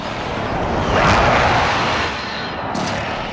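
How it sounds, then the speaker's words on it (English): A friendly precision airstrike in Call of Duty: Modern Warfare: a loud, broad roar swells around the first second and eases off, then a second rushing burst follows near the end. "Be advised, friendly precision airstrike inbound."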